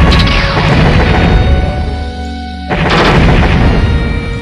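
Gunfire in the shooter game Cyberia 2, a loud continuous barrage of booming shots and bursts that drops out briefly near the middle and then resumes just as dense.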